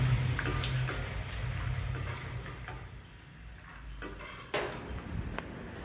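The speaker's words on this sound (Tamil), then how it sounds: "3 டேபிள் ஸ்பூன் அளவுக்கு பச்சை நிலக்கடலை சேர்த்து வறுத்து எடுக்க போகிறேன்." Raw peanuts frying in hot oil for a vegetable poriyal, heard as nearby metal spoon clinks and scraping against the pan over a soft background hiss, with a few sharper knocks near the end.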